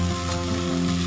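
Cumin seeds and cloves sizzle in hot oil for a desi tadka, a steady dense crackle of frying that holds evenly through the short moment with no talk.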